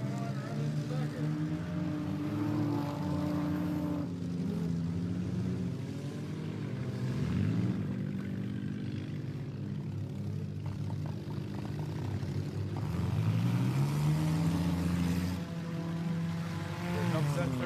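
Race cars rounding a corner of a track at a Metal Mayhem event, engines droning and rising and falling in pitch as they pass, with an announcer talking over the noise throughout.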